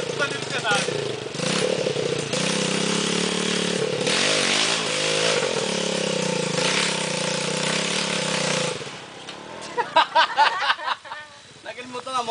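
A dirt motorcycle on a forest trail roars and revs loudly for several seconds, then drops to choppy bursts of throttle, with people talking and exclaiming nearby.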